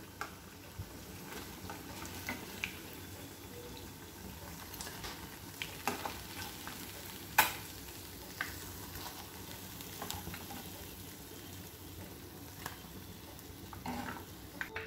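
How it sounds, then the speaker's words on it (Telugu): Egg pieces for egg Manchurian sizzle steadily in hot oil, a constant close frying hiss broken by occasional small pops and stirring clicks. "ఇలా మిగిలిన అన్ని ఎగ్ పీసెస్ ని కూడా ఫ్రై చేసుకుందాము।"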